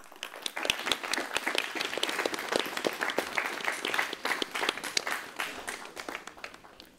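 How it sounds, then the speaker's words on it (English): Audience applause at a school quiz competition as contestants are welcomed to their table: dense, steady clapping from many hands, fairly close and sustained for several seconds without speech. "please welcome with a huge round of applause"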